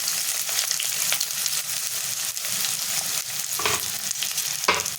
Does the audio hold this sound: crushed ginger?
yes